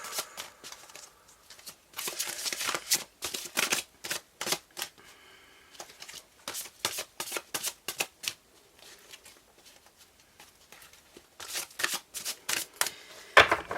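Tarot cards being shuffled by hand, bursts of quick riffling and flicking near the microphone separated by short pauses, repeating in an irregular rhythm.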